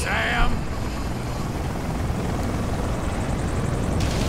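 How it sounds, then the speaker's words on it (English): A helicopter in the video game Metal Gear Rising Revengeance, a dense, steady rotor and engine roar that holds loud and even throughout, with a brief burst of other game sound at the very start. "Check out that helicopter."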